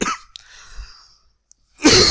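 A man coughs during a history lecture: a rough burst at the start, then quieter breathy rasps and a short silence before a final harsh cough at the end.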